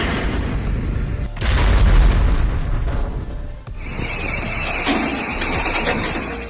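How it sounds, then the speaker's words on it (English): A heavy, rumbling boom from a Grad rocket salvo over Zaporizhzhia, Ukraine, followed by a sustained roar of blasts, loud and continuous, with a second dull thud partway through. "dozens of explosions within seconds, creating shockwaves visible for kilometers"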